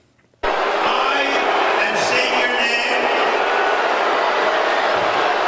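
A large crowd at a Washington Commanders NFL game reacts to President Trump's arrival, a dense sustained roar of many voices rising abruptly after a brief quiet moment and holding loud to the end.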